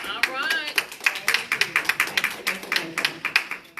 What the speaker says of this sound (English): So let's give her a hand clap as she comes forward.